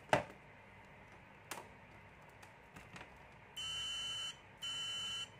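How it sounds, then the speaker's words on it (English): An analog multimeter's continuity buzzer sounds two steady, shrill tones, each about a second long, with a short gap between them. Faint handling clicks and taps come before them. "if you use analog multimeter, you can use as well with the buzzer"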